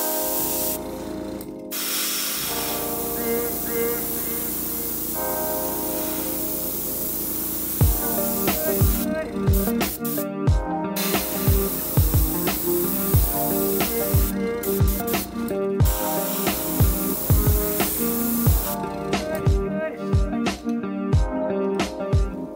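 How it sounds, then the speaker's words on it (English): Opaque white paint sprayed from an airbrush onto a Whopper Plopper 90 fishing lure, heard as a continuous hiss in long bursts, broken by short gaps and clicky mechanical rattles in the later part. "I'm just going to take a little bit of opaque white and then just spray the backbone"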